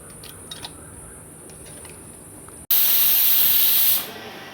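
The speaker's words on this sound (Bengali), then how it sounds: "মাংসের প্রেসার কুকারে সিটি মারা হয়ে গিয়েছে" A pressure cooker whistles while mutton cooks in a village-style kitchen: a sudden loud, steady steam hiss that holds for over a second before tapering off, following a quiet stretch of faint kitchen background.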